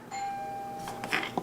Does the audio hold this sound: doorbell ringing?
yes